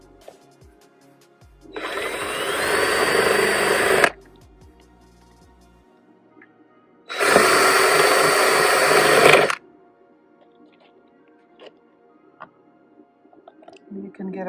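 A DeWalt power drill whirs in two bursts of about two seconds each, close and loud, separated by quiet, while working on a 2006 Jeep Commander door panel during a handle replacement.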